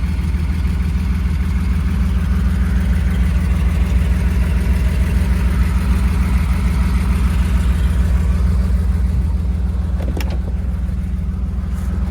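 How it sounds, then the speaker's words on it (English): A 1969 Porsche 911T engine idles steadily with a deep, even burble and low throb, continuous and close, with no voices over it. "Off she goes, the engine running."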